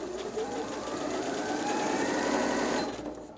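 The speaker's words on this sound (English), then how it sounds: "we can unplug the foot control and then use the start-stop button on the front of the machine to" A Janome XL601-series sewing machine runs steadily off its front start-stop button with the foot control unplugged, a close, even mechanical whir that holds for about three seconds before winding down.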